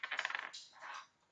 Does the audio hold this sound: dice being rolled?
yes